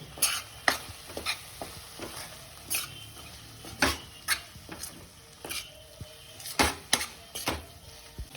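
A utensil scrapes and stirs through egg biryani masala with chili powder in a pan, making intermittent sharp scraping strokes over a faint background sizzle and no talk.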